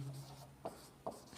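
A sentence being written on a board gives faint, soft scratchy strokes, a couple of brief taps and drags close by in a quiet room.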